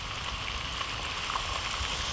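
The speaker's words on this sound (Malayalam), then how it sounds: "നല്ല മഴ." Heavy rain pours steadily outdoors at a scenic spot, a dense, even hiss of drops on surfaces with no pauses or voices.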